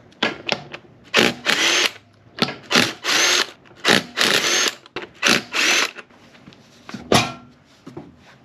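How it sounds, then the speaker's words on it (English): Car lug bolts being removed with a 19 mm socket on an impact-style tool: a series of short, loud mechanical whirring bursts with brief pauses between them, close up and with no talking. "we're going to take our 19 millimeter socket and we're going to take out our lug bolts."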